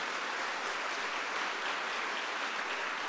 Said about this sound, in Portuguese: se você quer aplaudir, aplauda